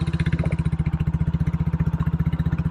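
Royal Enfield California Goan 411 motorcycle at an easy cruising pace, its single-cylinder engine thumping in a steady, even rhythm, close and loud with a low, pulsing beat throughout.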